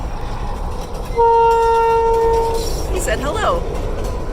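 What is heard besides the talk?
short line train moving on the prairie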